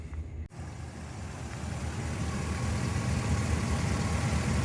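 A van's engine idles in a steady low rumble, close and continuous, after a brief dropout near the start, with no voices.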